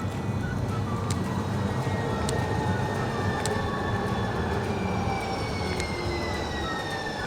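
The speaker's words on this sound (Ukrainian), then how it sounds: "І трамвайчики в Сан-Франциско" A San Francisco cable car or tram passes with a continuous rolling rumble and faint metallic squeals and clicks over roughly seven steady seconds.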